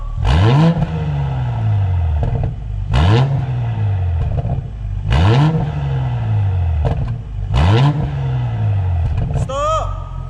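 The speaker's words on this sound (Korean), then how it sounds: "가변을 열고 스포츠 플러스 모드로 하고 한번 밟아보겠습니다" A BMW X6 40i with a tuned valved exhaust, valves open in Sport Plus mode, revs hard four times in steady succession, each a loud, close rising roar that falls away, with a brief whir at the end.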